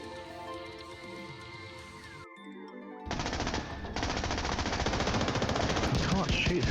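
Automatic weapon fire rattles in a steady rapid stream in the game Another Crab's Treasure, starting after a brief pause and growing louder, with a voice speaking alongside.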